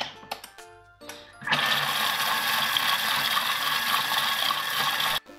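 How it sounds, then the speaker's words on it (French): A Thermomix mixing and heating pastry cream at speed 4, a few clicks and clunks as it starts, then a steady loud mechanical whir and rattle that runs for several seconds before stopping abruptly. "on va mélanger 7 minutes et on va utiliser la fonction de chauffe, donc 7 minutes à 90 degrés et à vitesse 4"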